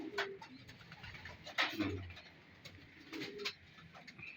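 Young pigeons at a rooftop loft cooing softly in short, low calls, with faint chirps and shuffling nearby, quiet and close.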